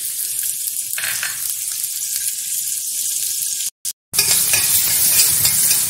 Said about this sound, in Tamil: இப்போ வந்து ஆனியன் போட்டுடலாம்.